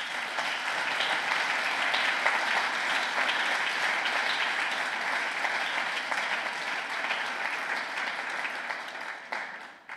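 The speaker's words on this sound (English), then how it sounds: "I think you can give them a big applause." A conference audience at a finance and technology event applauds steadily for about ten seconds, a dense sustained clapping that stays loud throughout and fades out at the very end.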